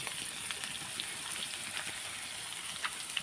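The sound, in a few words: shrimp frying lightly in a pan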